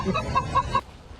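A cartoon chicken in a Ratchet & Clank video game ad gives a quick run of four or five close, loud clucks, then falls abruptly quiet.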